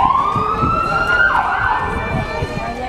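A London Fire Brigade fire engine's siren wails close by with a rising, steady tone over traffic rumble, while people talk nearby.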